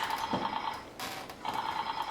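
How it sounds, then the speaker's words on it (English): An old telephone bell rings indoors in two long repeated trilling bursts separated by a short pause, loud and close with no voices. "Ringing."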